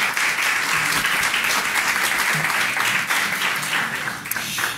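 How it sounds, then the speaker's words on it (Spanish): Sustained applause from a conference symposium audience, dense, steady clapping filling the room at even loudness throughout, with no voices over it. "Un aplauso, por favor, para ellos."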